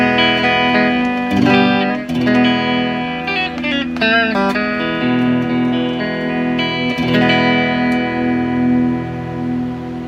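RE/F-TECH modified ST54-95LS Stratocaster-style electric guitar on the rear pickup, played continuously with sustained chords and quick single-note runs, bright and up close with a touch of effects and reverb.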